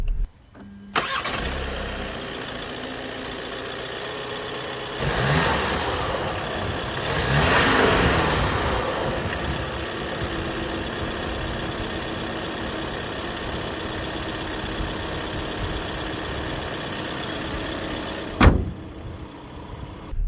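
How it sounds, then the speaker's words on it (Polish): A Skoda Kodiaq with a 150 hp 2.0 TDI diesel, front-wheel drive and DSG gearbox, starts up and settles into a steady clattering idle, with a brief rev partway through, heard alone with no talk. "Tak ten silnik klekocze."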